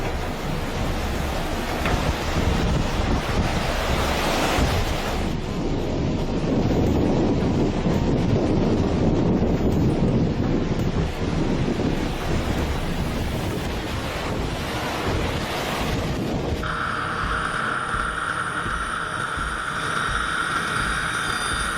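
Storm-driven ocean waves surge and crash continuously at close range, loud broadband roar with heavy wind buffeting the microphone; a steady tonal hum emerges near the end.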